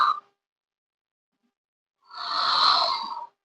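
A storyteller's voice imitates a kitten's yawn, a breathy drawn-out tone lasting over a second, heard close and clear after a short silence and a brief clipped sound at the start.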